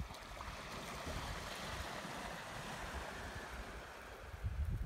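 Waves washing onto a rocky bay on Achill Island, Ireland, a steady low surf wash with some wind noise, fairly faint and continuous with no talk.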